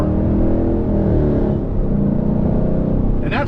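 A fifth-generation Chevrolet Camaro SS V8 fitted with long tube headers, heard from inside with the windows up: a loud, deep, continuous engine roar with a steady rumbling drone under acceleration.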